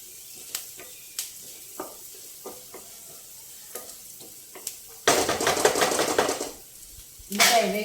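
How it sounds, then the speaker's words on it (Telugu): Onions frying in a pan before fresh amaranth leaves go in, starting with scattered light taps and clicks, then a loud burst of sizzling and stirring, a pause, and another sizzle near the end. "ఉల్లిపాయ కొంచెం వేగాలండి."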